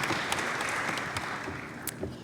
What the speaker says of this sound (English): Please give a round of applause and welcome Dee to the stage.